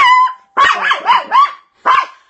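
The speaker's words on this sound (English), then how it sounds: "He is a toy poodle, not a Yorkie. He's very loud and crazy," A toy poodle barks loudly up close, reacting to a doorbell, a quick run of sharp, high-pitched yaps, then a pause and one more bark.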